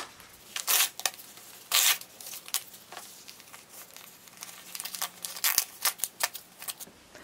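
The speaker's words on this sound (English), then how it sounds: "Be very careful as you're ripping it to make sure that you're not pulling out any seam lines." Foundation paper tears off a sewn quilt block in a series of sharp ripping and crinkling bursts, some quick and some drawn out, close up and alone over quiet room tone.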